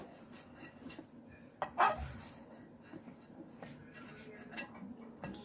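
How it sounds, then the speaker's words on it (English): Eggs cracked and separated for a Jamaican carrot cake: one sharp close knock against a hard edge, with faint clinks of dishes and shells around it in a quiet kitchen. "I am cracking the egg and just taking out the eye out of the egg"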